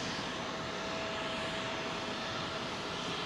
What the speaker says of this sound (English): This is our man Chuck going out, folks, in control of this Boeing 777. Off to Bengaluru.